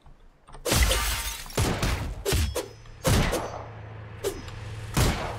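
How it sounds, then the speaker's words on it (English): Glass windows smashing in the Streets of Rogue 2 video game: a series of loud, sharp shattering crashes with tinkling debris, about six bursts spaced irregularly, close and alone with no talk. "We're breaking the glass."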